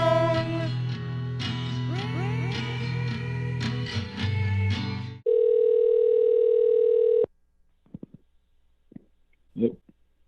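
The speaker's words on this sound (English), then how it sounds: "Prank Stallone is on the phone" A steady telephone dial tone rings for about two seconds on a prank call after a burst of music, then it cuts off, leaving faint clicks and brief sounds.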